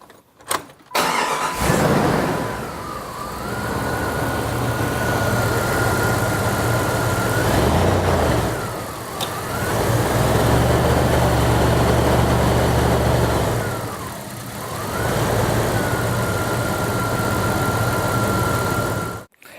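A car engine starts and settles into a steady idle, a low hum with a faint whine that dips briefly twice, heard up close without talk.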